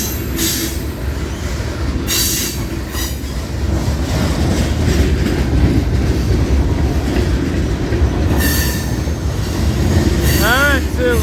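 A freight train of empty cars rumbles past close by, wheels clattering steadily on the rails with occasional high metallic squeals and hollow rattling from the cars.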